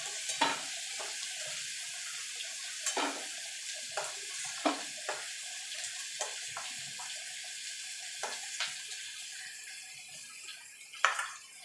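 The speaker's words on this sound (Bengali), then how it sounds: "আলুগুলো লাল লাল করে ভেজে নেব।" Potatoes fry in oil with a steady, hissing sizzle, broken by occasional sharp clinks and scrapes of a utensil, with no voices.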